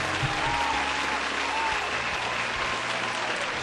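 An arena crowd goes wild after a combat bout, a broad, sustained roar of applause and cheering heard at a moderate distance with no break.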